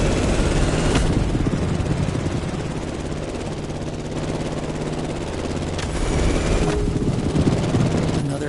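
A plane engine in The Crew Motorfest video game, in flight during a race, gives a steady loud droning roar with a rapid chopping pulse, swelling slightly over several seconds with no talking.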